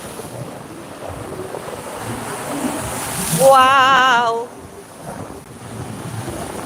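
Strong sea surf roars steadily against the shore alongside gusty wind noise, loud and continuous, while a voice briefly exclaims partway through.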